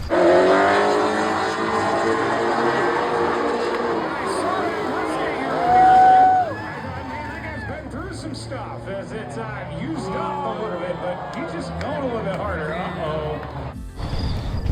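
Tuned Nissan G35 with a stock DE block and limiter raised to about 7,500 rpm, revving hard and loud with sweeping pitch rises, a sustained high note near the middle, then rough, broken engine noise before an abrupt cutoff near the end.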